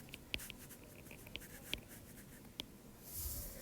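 Pen scratching out notes by hand on paper, faint and close, with a few distinct stroke taps spread through a quiet background and a short brushing sound at the end.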